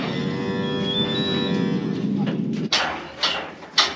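A cow gives one long, loud, drawn-out moo up close, followed by a few sharp knocks and clatters nearby.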